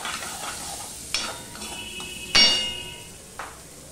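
Malabar spinach (pui) seeds fry gently in oil on medium-low heat, a soft steady sizzle broken by a few sharp metallic clinks and taps of a utensil against the pan.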